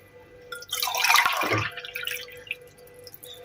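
Water poured from a glass into a pot of meat and lentils, a bright splashing gush lasting about a second, then fading drips and trickles, close and fairly quiet.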